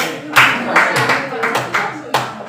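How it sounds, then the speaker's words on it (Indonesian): Classroom clapping for a student group: several short bursts of claps from a small group, close and uneven, separated by brief gaps, with a teacher's voice speaking between them. "Tepuk tangan untuk kelompok F3."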